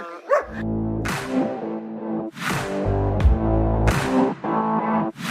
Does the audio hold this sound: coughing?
no